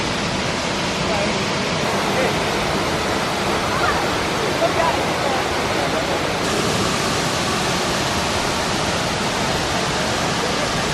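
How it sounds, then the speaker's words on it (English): Waterfall roaring steadily up close, a dense unbroken rush of falling water that fills the whole clip loudly. "We can actually go behind the waterfall,"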